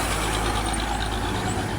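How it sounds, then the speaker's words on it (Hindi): Heavy trucks idle in a queue along a Pakistani road, with a steady, dense low engine rumble and broadband traffic noise continuing evenly throughout, no voices present. "ये देखें लाइन लगी हुई है ट्रकों में"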